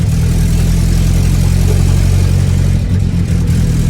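A Mini's small 37-horsepower engine drones loudly and close up as it runs through third and fourth gear, a steady buzzing roar with a brief dip near the end.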